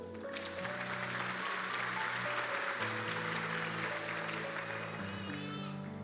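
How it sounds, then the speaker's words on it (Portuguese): A church congregation applauds steadily through the whole stretch while sustained organ or keyboard chords play beneath it and voices rise faintly within the crowd. "Aplauda o Senhor"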